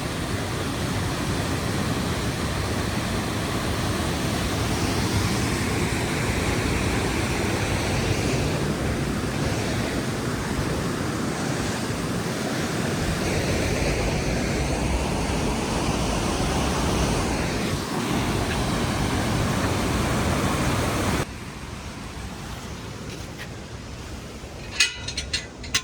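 Aira Force waterfall in the Lake District, a loud continuous roar of falling water close by, steady and broadband, easing slightly near the end with a few faint knocks.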